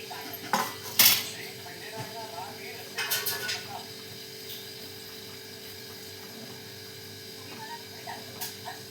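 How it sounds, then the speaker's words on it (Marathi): Peanut-stuffed green chillies are set onto a griddle pan, making a few sharp metallic clinks and clatters early on, then a quieter stretch with faint utensil taps over a low hum. "चला आपण ना तव्यावर टाकून घेऊया मिरची"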